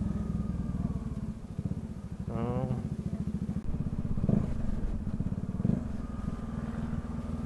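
Bajaj Dominar 400 motorcycle engine braking down a steep descent, a steady low engine drone with a brief rising whine, heard under a voice talking throughout.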